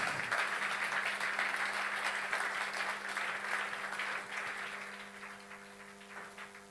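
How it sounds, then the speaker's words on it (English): An audience at a leadership event keeps clapping for a Trailblazer Award honoree, a dense, even patter that slowly fades toward the end. "I think you will want to clap better than that."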